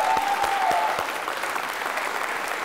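An audience applauds steadily at a televised quiz round, a dense, even wash of clapping that holds at full strength throughout with no voices over it.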